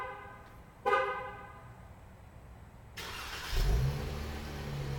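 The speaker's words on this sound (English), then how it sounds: "You get a nice rumble from the exhaust." A 2018 Dodge Charger starts remotely with a horn-like chirp near one second, then the engine catches around three seconds and settles into a steady low exhaust rumble close by, with no talking.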